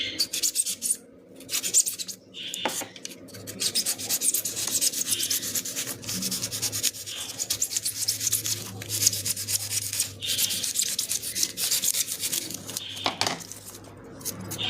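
A blade scrapes and rubs steadily into a material to cut deeper, giving continuous close raspy strokes with short pauses throughout.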